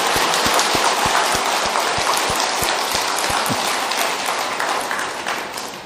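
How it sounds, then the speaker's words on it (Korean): An audience at a Buddhist Diamond Sutra lecture claps together, starting as a distinct rhythmic series of hand claps that blends into steady, fairly loud applause and slowly fades. "박수 한번 칩시다."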